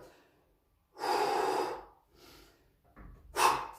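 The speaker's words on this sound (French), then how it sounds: "on inspire, on expire." Heavy breathing after exercise, with a couple of loud, close exhalations and quieter inhales between them, heard alone in a quiet room.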